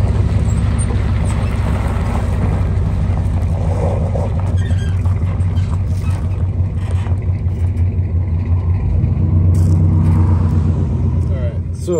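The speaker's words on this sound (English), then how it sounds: "Time to unload the GMC off the trailer." A GMC truck driven off a trailer, its engine rumbling steadily with some revving and a hiss near the end, heard close alongside someone talking.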